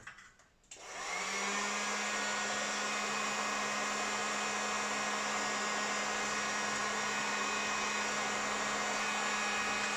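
Heat gun or hair dryer warming covering film on a model, starting with a click and then running as a continuous steady blowing whir, close and unbroken.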